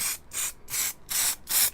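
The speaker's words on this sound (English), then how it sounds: "I'm going to spray some layering spray down" Layering spray hisses in four short, close bursts from an aerosol can over model hayfield scenery, each burst separated by a brief pause.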